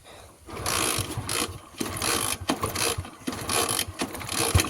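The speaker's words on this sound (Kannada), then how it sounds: "ಗಾಡಿ ಸ್ಟಾರ್ಟ್ ಆಗ್ತಿಲ್ಲ ಈ ಕೆಸರಿಂದ ಹೆಂಗೆ ತೆಗಿಯೋದು ಗಾಡಿ ಬೇರೆ ಸ್ಟಾರ್ಟ್ ಆಗ್ತಿಲ್ಲ" A motorbike stuck in mud refuses to start, giving repeated loud mechanical ratcheting and clattering bursts of cranking with short pauses between, and no engine catching.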